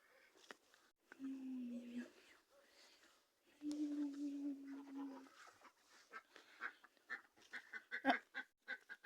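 Ducks let out a couple of drawn-out quacking calls, followed by clicks, rustling and soft whispering nearby.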